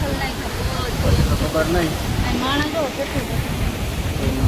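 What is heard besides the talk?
heavy rain and floodwater at dam with open gates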